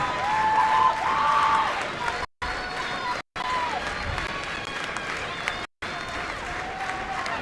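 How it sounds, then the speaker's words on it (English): At a Coastal Carolina vs Louisiana college softball game, the crowd claps in rhythm in a steady, distant outdoor wash, with cheering voices mixed in. "And you hear the rhythmic clapping."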